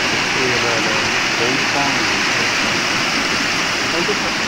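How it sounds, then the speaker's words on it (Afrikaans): Water flowing down from the mountains on a farm, a steady broadband rush like a waterfall or stream running continuously and fairly loud, with faint voices mixed underneath. "Hierdie water vloei nou hier in en af."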